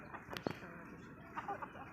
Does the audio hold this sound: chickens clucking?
yes